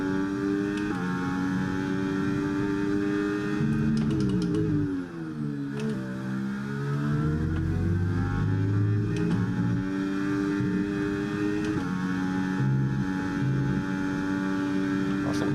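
F1 race cars in F1 23 at Abu Dhabi, a continuous high engine whine with rising and falling pitch as cars shift and overtake, layered tones from several cars, no talking.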